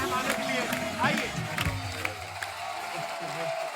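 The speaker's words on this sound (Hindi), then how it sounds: "एक बार जोरदार तालियां हमारे मेहमानों के लिए" Studio audience on a televised Hindi comedy talk show gives loud sustained applause for the guests, steady dense clapping with scattered cheers over a few seconds and voices mixed underneath.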